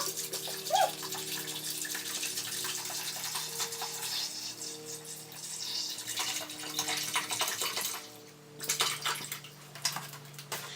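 Filtered water is poured for bone broth, making a continuous splashing gush that briefly pauses, then resumes with a few louder splashes.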